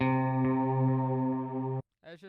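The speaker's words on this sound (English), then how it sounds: "a Telecaster with a delay pedal and some reverb." Telecaster electric guitar played through a delay pedal and reverb, a sustained rich droning note ringing for nearly two seconds before cutting off, followed by a brief spoken voice.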